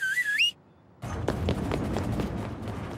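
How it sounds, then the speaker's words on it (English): A cartoon character whistles a short wavering tune up close, then it stops; after a brief silence come soft thumps and footstep-like knocks. "Why don't you try this little thing I like to call a whistle?"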